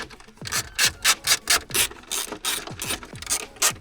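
Carpet trim being pried and pulled back inside a BMW X5 cabin, giving a run of scraping, rubbing clicks and creaks in quick irregular bursts, close and fairly loud, with no talking.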